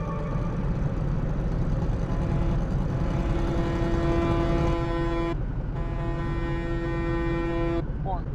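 A truck in Ship Graveyard Sim 3 rumbles steadily with its engine running while a loud, sustained horn tone sounds twice, briefly cut off in between; a voice talks over it.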